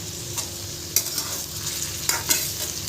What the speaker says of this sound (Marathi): थोडं फ्राय होऊन देते